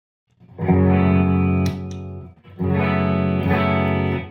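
Clean electric guitar chords from a 1984 Tokai Les Paul Custom ring out through a Deluxe Reverb amplifier, two sustained strums with a short gap between, full and warm with a little shimmer.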